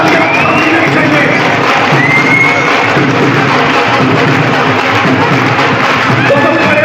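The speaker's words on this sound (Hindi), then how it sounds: "दोस्तों तालियां थमनी नहीं चाहिए, आपकी तालियां थमनी नहीं चाहिए" A large crowd at a business event cheers, whoops and applauds loudly and steadily, a dense wall of sound with no break.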